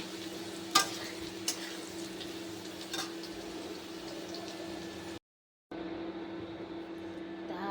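Potatoes and taro frying golden in hot oil hiss in a steady, close sizzle with a faint hum beneath, a few sharp spatters and stirring clinks, and a short silent break near the end.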